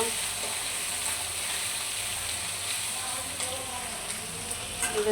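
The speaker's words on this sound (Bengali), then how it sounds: "হালকা করে আদা রসুনটা একটু ভেজে নিব।" Ginger and garlic frying in a pan: a steady, close hiss of sizzling oil running unbroken throughout, with a few faint clinks near the end.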